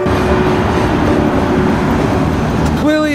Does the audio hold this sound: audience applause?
no